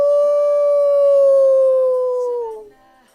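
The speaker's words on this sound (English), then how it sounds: "You guys are not wasting any time with the howling." A single long, loud howl sound effect set off by stream viewers, one sustained wavering tone that slowly falls in pitch and then fades out, heard alone.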